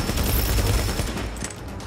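Dense gunfire from Tom Clancy's The Division video game rattles continuously in a loud, sustained volley of rapid shots that fade slightly toward the end.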